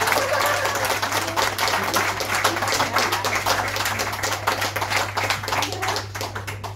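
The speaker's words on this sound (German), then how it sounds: "Vielleicht einmal einen extra Applaus für die Leute." An audience at a short film evening claps loudly and steadily, a dense crowd of hands that tapers only slightly over several seconds.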